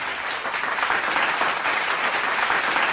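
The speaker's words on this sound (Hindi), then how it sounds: "Afzal के लिए एक बार तालियां प्लीज" An audience at a Class 7 prize distribution ceremony claps steadily for a student, a dense, even wash of applause from a sizable crowd that holds for the whole stretch.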